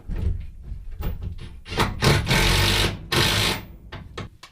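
A 3/8 by 3.5 inch lag screw is driven into a chicken coop hinge, giving close, loud bursts of rattling, hammering tool noise broken by short pauses.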